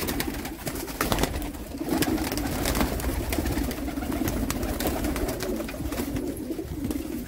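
Breeder pigeons kept for sale in Jammu coo in a loud, busy chorus, with overlapping throaty calls and some wing flapping close by.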